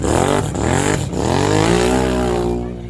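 A mud bog truck's engine revs hard on nitrous, a loud, close, sustained roar whose pitch climbs and dips through two quick throttle lifts before fading at the end.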